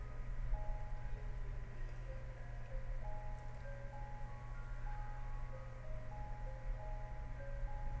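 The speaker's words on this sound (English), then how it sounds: "Now we can hear the Mr. Ice Cream Truck." An ice cream truck plays its melodic jingle steadily through the whole stretch, a chain of tonal notes over a constant low engine rumble, moderately loud and without talk.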